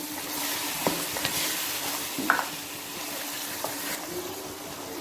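Bone-in fatty beef pieces frying in ghee in a pot, a continuous soft sizzle with occasional stirring scrapes and clinks, close and steady throughout with no talking.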